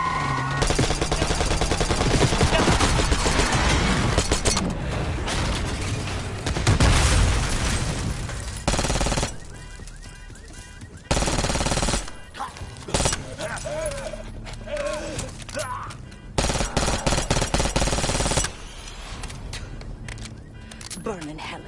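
Video game gunfire from the Black Ops 6 campaign: loud, close bursts of rapid shots and single cracks come in uneven clusters with pauses between them, mixed with game effects and voices talking.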